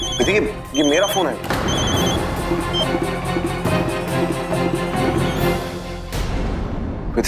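A telephone rings in warbling trills near the start, then music and voices carry on loudly over it.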